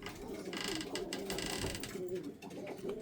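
Pigeons coo softly and steadily in a pigeon loft, low rolling calls close by with faint background clatter and a voice murmuring underneath.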